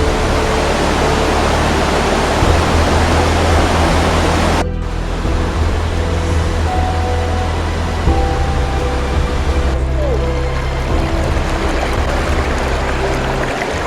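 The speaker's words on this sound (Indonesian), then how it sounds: "Ini Sungai Padang Buci." Sungai Padang Buci, a river in hilly terrain, rushes and churns as a steady, loud broadband wash of flowing water throughout, with the roar dipping briefly partway through.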